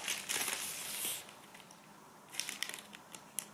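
A nylon plastic sheet of nail art transfer stickers being handled, giving soft crinkling and rustling bursts near the start, then a few sharper crackles toward the end.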